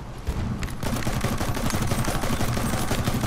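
Quick, closely spaced gunshots in Battlefield 1 rattle out in a fast, steady run of loud bursts, with almost no speech over them.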